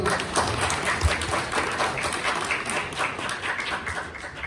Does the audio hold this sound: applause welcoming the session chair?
yes